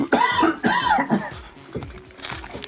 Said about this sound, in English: Makes me cough.